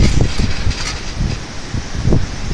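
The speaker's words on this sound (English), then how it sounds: "That wind's blowing those rails" Strong Hurricane Harvey wind blows against rails, a loud, rough, rumbling roar of gusts buffeting close to the microphone.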